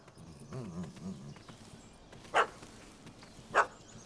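Two sharp, distinct dog barks in The Witcher 3, spaced about a second apart over a quiet ambient backdrop with faint low rustling before them.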